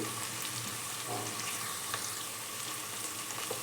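Tomato pieces and curry leaves fry in hot oil for a vegetable khichdi, giving a steady, faint hiss with a few soft crackles and no voices.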